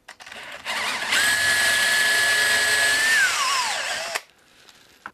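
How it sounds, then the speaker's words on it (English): Power drill with its bit turning in an old chair mortise to clear out old glue, a close, steady high whine that holds for about three seconds and then slows and falls in pitch as it winds down. "what I'm doing is letting the drill bit go backwards and it wants to follow the natural angle of that hole"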